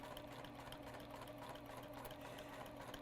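A sewing machine stitches a straight seam on a quilted tote bag, a fast, steady, close mechanical whir and needle patter running quietly and unbroken.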